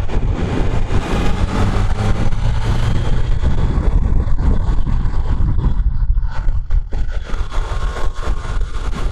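A Triumph Tiger Sport 660 motorcycle runs on the Interlagos circuit, its engine a steady, loud drone with wind rush throughout, swelling and easing slightly as it rides, with no talk over it.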